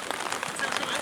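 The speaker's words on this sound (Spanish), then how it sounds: "Aparte está lloviendo de costado." Sideways-driven rain pours over an outdoor under-15 league football match, a dense, steady hiss of drops pattering on surfaces close by, with faint voices mixed in.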